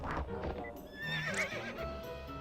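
A very large horse in a video game whinnies with a rising, wavering neigh, mixed with clip-clop hoof steps and snorting, fairly close and loud without speech.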